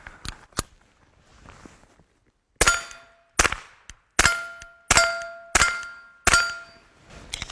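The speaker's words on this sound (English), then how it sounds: "the sound of the bullet hitting the steel is louder than the sound of the muzzle report" Sharp metallic pings from suppressed .22 bullets striking a steel target, six evenly spaced hits each ringing briefly, preceded by a couple of faint pops.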